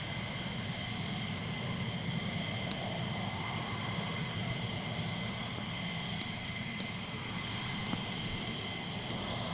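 An F-15 fighter jet roars steadily at RAF Lakenheath, a broad continuous engine rumble that holds constant at a moderate distance, with a few faint clicks on top.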